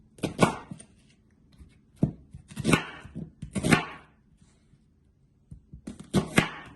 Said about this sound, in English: So you cut your onions, big chunks.